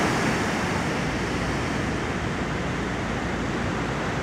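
Sea waves at a beach in Da Nang roll in as a dense, continuous roar of surf, close and unbroken, with wind noise blended in.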